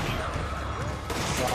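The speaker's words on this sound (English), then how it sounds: "Now, turn around and shoot." Gunfire in the video game Resident Evil 5, a dense burst of shots and rattling fire layered under a player's ongoing talk and game noise.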